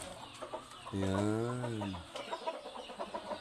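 A native chicken in a breeding house gives one clear, drawn-out cluck lasting about a second, with faint background clucks and noise around it.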